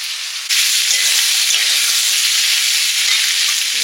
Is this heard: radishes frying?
yes